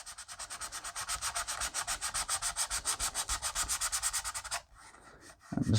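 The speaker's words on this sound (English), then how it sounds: "I'm just going to sand the top of these post holes" Sandpaper rubbed by hand across the post holes of a plastic RC car body: a fast, steady back-and-forth rasp of about twenty-five close strokes, then a short pause and some handling noise.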